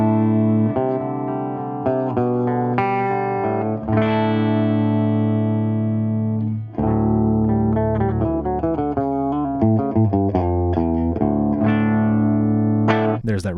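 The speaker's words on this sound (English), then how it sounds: "We'll start off with my pure clean tone without the pedal on" An electric guitar plays a riff with a clean tone and no pedal effect, sustained chords and single notes ringing out clearly with no talking.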